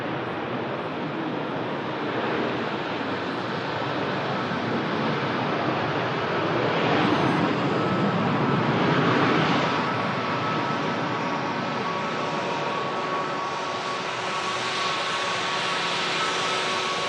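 A Ryanair airliner lands, its jet roar a broad steady rush that swells in the middle and then eases, with a faint whine lingering toward the end and no voices.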